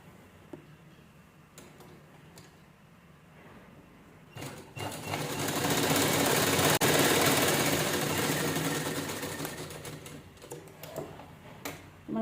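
A sewing machine stitches a one-sided purse made from two zippers, with a sustained mid-level whirring run for several seconds that ends in shorter bursts and ticks, with no talk.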